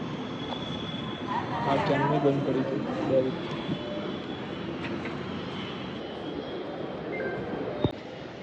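Busy metro station ambience: a broad wash of crowd murmur and mechanical hum, with a voice talking close by, faint tones and clatter, and a sharp knock near the end.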